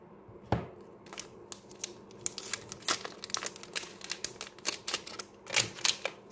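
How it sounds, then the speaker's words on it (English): Packaging crinkles and rustles as a purple sticker book is unboxed, in a close series of sharp, irregular crackles and tears that grow busier toward the end, with no speech. "So let's unbox the purple one."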